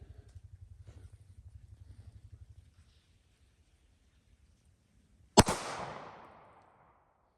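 A single loud gunshot from a .40 caliber law enforcement handgun firing a 180 grain Gold Dot round, a sharp close crack with a decaying tail, following several seconds of low rumbling hum and near silence.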